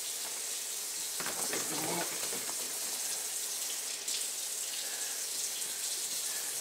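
Grapes rinsed under running water for a home wine batch: a steady hiss of flowing water with splashing and faint clatter throughout, fairly quiet, with no talk.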